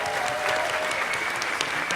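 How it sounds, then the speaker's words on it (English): A crowd at a live fan event applauding for Cleo, dense steady clapping that fills the whole short stretch at an even level. "So Everybody, Cleo, round of applause"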